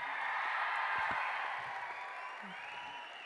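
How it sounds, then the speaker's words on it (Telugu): A large crowd at a film pre-release event applauds the co-director and team. A thick, continuous wash of clapping and crowd noise holds steady, then eases slightly toward the end. "సో నా కోసం వీళ్ళందరికీ ఒక్క huge round of applause please."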